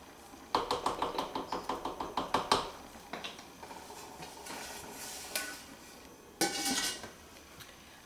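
A spoon knocks repeatedly against a stew pot of chuck roast in a quick, even rhythm, then softer scraping follows, and a lid clatters down onto the pot near the end; close and fairly loud, no voices.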